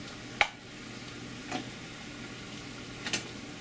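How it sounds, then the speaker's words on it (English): A rice paddle stirs fried rice with bacon, tofu and egg in a pan, making three brief, soft scrapes over a faint, steady sizzle. "we'll be using the rice paddle to stir the rice a bit again"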